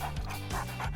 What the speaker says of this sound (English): Sweet puppy.